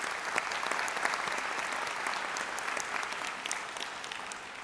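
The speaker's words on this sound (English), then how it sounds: "So let's give them a round of applause." A convocation audience gives steady, dense applause that holds at an even level for several seconds, with many close and distant hands clapping together and no talking over it.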